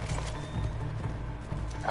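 Horses in the Red Dead Redemption 2 game: faint, steady hoof clatter of galloping with a brief whinny-like tone, low in level and without talk over it.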